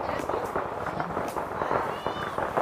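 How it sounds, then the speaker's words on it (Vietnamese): Firecrackers set off outdoors during Chinese New Year in an ethnic Kinh village in China, a dense, continuous crackle of rapid pops under a noisy crowd with people talking throughout. "Xem bên kia xem mọi người bên này đốt pháo mọi người nhé"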